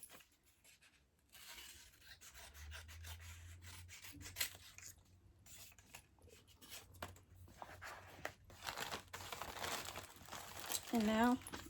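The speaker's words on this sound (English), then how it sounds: "take the little plastic off of this one" Thin plastic packaging being peeled and crinkled off an item while shipping an order, with soft rustling and rubbing throughout and a brief sharper crackle near the end; a voice talks quietly in places.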